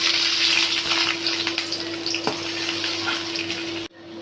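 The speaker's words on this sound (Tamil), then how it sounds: "இப்போது ஒரு பேனில் நல்லா ஹீட் ஆனதும் கொஞ்சம் ஆயில் ஊற்றி நம்ம கட் பண்ணி வச்சுருந்த வெங்காயத்தில் பாதி எடுத்து கொஞ்சம் கொஞ்சமாக அதை டீப் ஃப்ரை பண்ணிக்கணும்." Sliced onions deep frying in hot oil in a pan, a steady bright sizzle with occasional crackles and a faint background hum, cutting off abruptly near the end.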